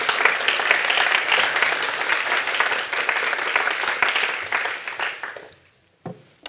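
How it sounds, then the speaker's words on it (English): An audience at a mayoral speech on London safety breaks into strong, steady applause for Leonita, dense clapping that fades out sharply near the end, followed by a brief clatter. "let's have another round of applause for Leonita"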